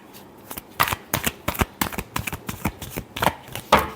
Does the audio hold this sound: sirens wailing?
no